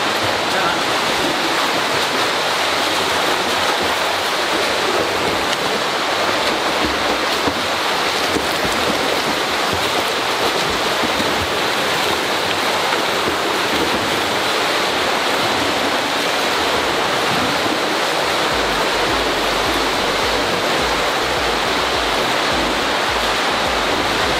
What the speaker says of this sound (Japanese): なんかやっぱ波がぶわーっと押し寄せてくるんで